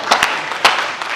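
Audience clapping at a Pakistani Punjabi stage comedy show, a few sharp individual claps over a brief wash of crowd applause, short and fairly close.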